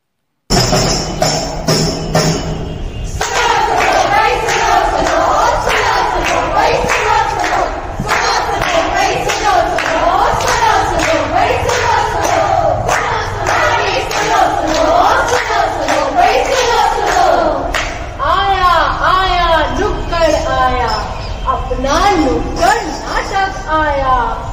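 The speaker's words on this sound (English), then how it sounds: "So give a huge round of applause for the" A crowd claps and cheers for a street play team performing a Corona warriors tribute at a college event, with loud chanting voices, thumps and chatter running throughout.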